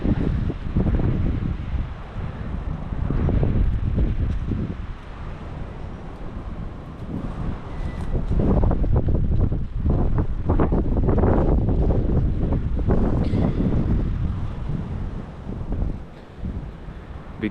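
Strong gusting wind from a February windstorm sweeping the Ohio Valley roars against the microphone in heavy, continuous rumbling buffets that swell and ease, with no voices.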